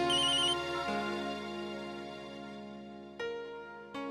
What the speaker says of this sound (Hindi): नैतिक, फोन उठाइए।